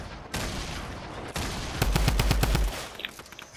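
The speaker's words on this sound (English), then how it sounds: "He just shot me bro." Gunshots in a video game ring out as a rapid burst of about eight loud, close shots in quick succession, following a stretch of busy game noise.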